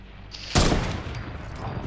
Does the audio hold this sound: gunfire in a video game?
yes